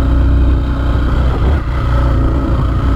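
A Yamaha Factor motorcycle engine runs loud and close on a dirt road, a steady mid-pitched drone with a brief dip in revs partway through and no voices.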